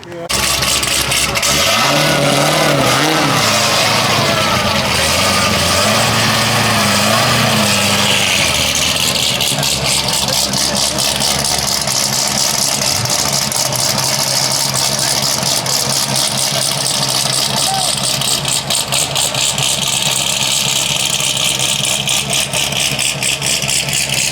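A twin-turbo Ford Mustang engine roars loudly up close, sweeping through revs early before settling into a steady, throaty idle, with people talking over it throughout.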